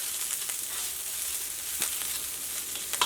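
Onion, ginger and garlic fry in a pan for a brain-rolling brinjal masala, giving a steady close sizzle throughout with a few sharper pops and crackles near the end, no voices.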